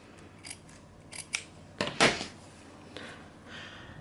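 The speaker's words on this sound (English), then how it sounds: "just trim it as close as we can to that sewn line" Scissors snip through quilting fabric close to a sewn seam line: a few quiet, separate cuts, building to a sharper cluster of snips near the middle, then fading.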